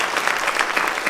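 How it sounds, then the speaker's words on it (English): Dense applause from an audience, a steady patter of many hands clapping close by. "How about I give a round of applause for these late night boomers?"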